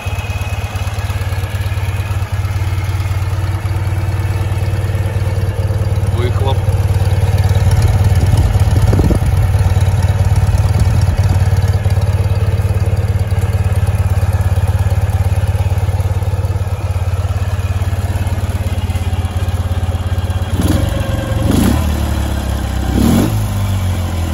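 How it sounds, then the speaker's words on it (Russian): A new Ural police motorcycle engine idles steadily for a long stretch, a deep, even, loud rumble with a light rattling of the valve gear and a few brief throttle blips near the end. "Никакого шума генератора. Чудненько работает побрякивает слегка колпанами."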